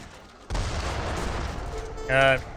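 Mortar and howitzer fire in the Age of Empires 3 strategy game, with a loud sustained rumble of booms and blasts and a brief tonal in-game sound near the end.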